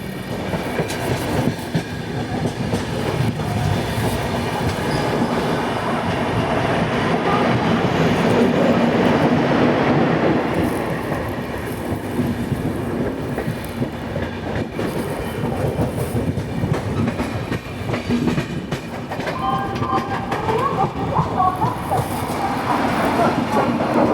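Vidarbha Express passenger train rolling along the rails near Nashik Road, a steady loud rumble with rhythmic clickety-clack from the wagons throughout, heard from inside the carriage with faint background voices.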